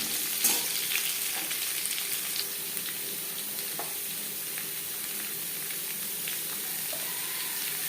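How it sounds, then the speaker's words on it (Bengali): Papaya pieces drop into hot oil already frying cumin seeds and bay leaves, giving a steady close sizzle with a few sharper crackles and spatters near the start, no voices. "জিরে তেজপাতা ভেজে নেওয়ার পর দিয়ে দেবো পেঁপে"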